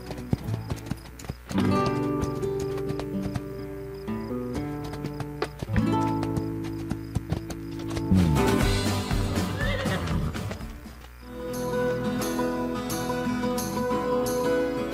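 The horse Spirit in the video game Spirit Lucky's Big Adventure trots with rhythmic clip-clopping hooves over a game music bed, with a loud neigh in the middle before the hoofbeats carry on.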